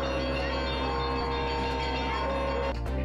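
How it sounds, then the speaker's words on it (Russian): Church bells ring at a town riverside embankment festival, a sustained tonal peal with steady overlapping strikes and a busy, dense ringing texture throughout. "Под колокольный звон."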